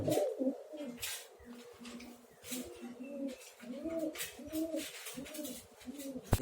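Pigeons in a loft coo steadily, their soft, rolling calls overlapping and repeating close by throughout, with faint rustling between them.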